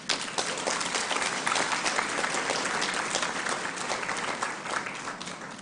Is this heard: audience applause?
yes